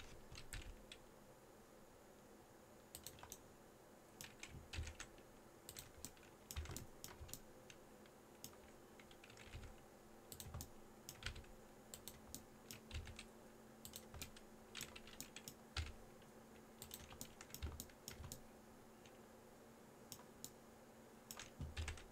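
Steady, quiet computer keyboard typing while entering shortcut keys for 3D mesh modelling, with irregular bursts of close key clicks spread across the whole stretch over a faint constant hum.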